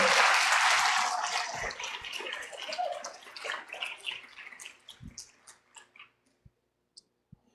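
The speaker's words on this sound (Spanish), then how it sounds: "Si quieres aplaudir, aplaude." A church congregation claps, starting as a dense, loud wash of applause that thins after a few seconds into scattered, separate claps, with a few last isolated claps near the end.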